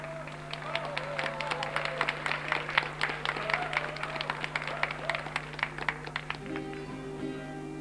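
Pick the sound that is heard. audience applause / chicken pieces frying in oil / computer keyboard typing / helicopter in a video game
audience applause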